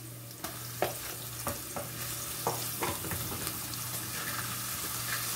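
Onion and garlic fry in a pan for rice with chicken gizzards, giving a constant soft sizzle broken by sharp spoon scrapes and taps against the pan.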